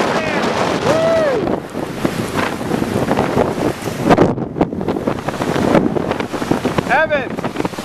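Hurricane Sandy's wind roars over a raging bay, buffeting the microphone in loud, gusting surges with rushing water noise, while voices shout and cry out excitedly over it.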